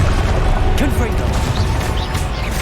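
Confringo fire spell exploding in a Hogwarts Legacy battle, a loud sustained crashing blast with scattered debris-like cracks and faint combat cries mixed in.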